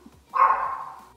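A 16-and-a-half-year-old dog gives a single drawn-out bark or howl, fairly close and clear, lasting close to a second before trailing off.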